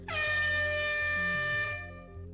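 A single loud, sustained horn blast signals the start of a timed game-show task, holding steady before its pitch slides down and fades out.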